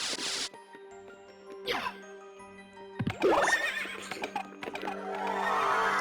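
A horse whinnies in the video game Castlevania: Symphony of the Night, with a rising neigh among game music tones, swooshing effects and crashes, and a brief low voice.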